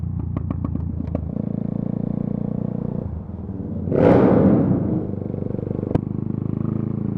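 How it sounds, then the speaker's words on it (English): A motorcycle engine idles with the clutch pulled in, chugging steadily before one loud, rising rev swells and fades back to idle, close and without talk. "Just pull the clutch in and either just sit there and fluctuate on the throttle"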